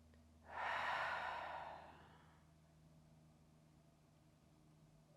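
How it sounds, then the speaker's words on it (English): A single slow, deep inhale during a yoga session, close and soft, rising then fading into quiet room hush. "Take a nice deep breath."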